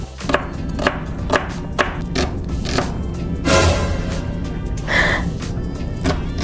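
A knife chops onion on a cutting board in a run of sharp, evenly spaced thuds, close and clear, with a few brief rustles between strokes and no talking.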